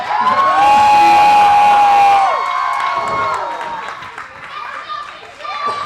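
Crowd at a Christian Wrestling Federation event cheering and shouting loudly, a dense roar with high voices and whoops that peaks early and then tapers to a lower murmur before swelling again at the end.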